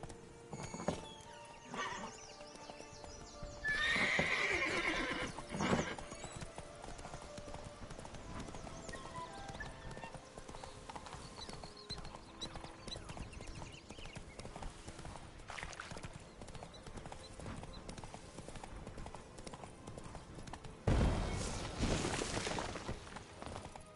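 In The Witcher 3, a horse's hooves clip-clop at a gallop throughout, with a neigh near the start and a louder burst of hoofbeats and movement near the end, all alone without talk.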